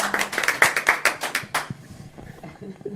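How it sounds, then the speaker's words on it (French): Audience clapping on a French television discussion programme about British rail privatisation, a quick cluster of claps that stops after about a second and a half, giving way to quiet background murmur. "Vous avez tout à fait raison d'applaudir."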